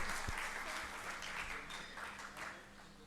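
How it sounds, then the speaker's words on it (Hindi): Steady applause from an audience at an India–U.K. cultural symposium, a continuous wash of clapping that holds for about three seconds at moderate volume. "They deserve a clap, guys."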